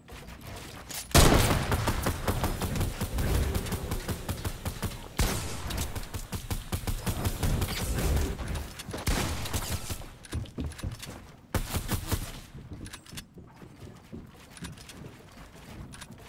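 Gunfire in a video game: rapid bursts of automatic shots in several loud stretches with short pauses between them, mixed with mechanical clicks and rattles.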